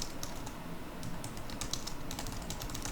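Quick, steady typing on a computer keyboard, close and dense with rapid key clicks and no talk.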